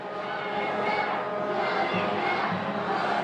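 Demonstrators dressed in black marching with a banner at a riot at UC Berkeley: a dense, steady crowd roar with distant shouting, continuous and undifferentiated, and a faint voice mixed in.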